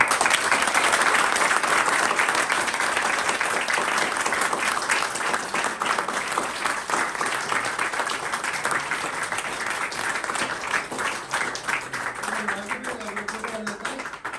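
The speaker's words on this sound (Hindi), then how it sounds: "एक बार जोरदार तालियां" An audience at a recovery birthday celebration marking two years clean and sober breaks into loud, sustained clapping, a thick steady roar that eases slightly toward the end as a voice begins speaking.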